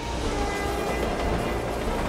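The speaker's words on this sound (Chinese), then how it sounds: "这个火车走过有声音，滴咕滴咕" A train rolling past on a rail line near a small town in northwestern Singapore, heard as a steady, loud, continuous rumble with broadband rail noise and no voices over it.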